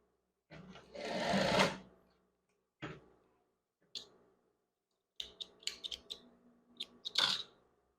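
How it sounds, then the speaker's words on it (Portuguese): A sewing machine stitches the shoulder of a scrub top in short bursts: one longer run of stitching, a few brief spurts, then quick clicking stops and starts, close and clear with nobody talking. "E não precisa costurar inteiro, só prende um pouco para essa parte não ficar virando."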